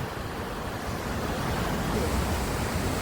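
Steady roaring rush of the Vasundhara waterfall at Bhandardara, a broad continuous wash of falling water heard close and moderately loud, unbroken across the whole stretch with no voices.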